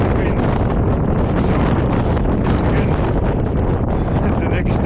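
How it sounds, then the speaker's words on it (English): Strong, cold wind on Thorbjörn near Grindavik, Iceland buffets the microphone with a loud, continuous roaring rumble that gusts unevenly throughout. "it's really windy"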